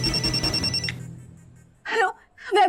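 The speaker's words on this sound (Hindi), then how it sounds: "सर, किसी अननोन नंबर से फोन आ रहा है सर।" An incoming call from an unknown number rings through a TV drama scene, a bright electronic ring lasting about a second before stopping, then people speak briefly.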